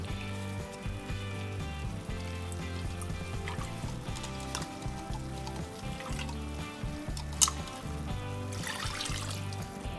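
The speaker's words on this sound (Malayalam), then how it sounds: "ഇതിലേക്ക് ഈ മിക്സി തന്നെ ഒന്ന് ഒലുമ്പിയിട്ട് 1 കപ്പ് വെള്ളം" About a cup of water pours and trickles steadily into a pan of vegetable curry, a continuous splashing stream lasting several seconds, close and moderately loud.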